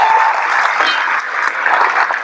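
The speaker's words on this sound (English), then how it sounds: "Can we please get another round of applause for Colby?" An audience at a high school graduation ceremony claps for a student speaker, a bright, steady burst of applause carrying on for a couple of seconds.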